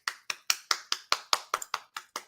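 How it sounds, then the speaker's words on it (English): A small round of applause: about a dozen crisp, evenly spaced hand claps in quick succession, fairly close and moderately quiet, with no voices over them. "round of applause"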